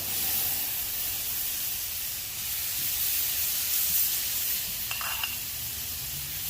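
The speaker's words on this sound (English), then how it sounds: "Let's go ahead and get some shrimp on here, some direct contact." Shrimp sizzle on a hot flat top griddle with a steady, loud, even hiss of frying throughout, broken only by a faint brief clink.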